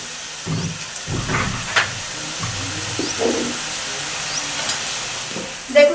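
Potatoes frying in a pan with spices, a soft steady sizzle and hiss broken by a few scraping stirs and clinks, close and fairly quiet.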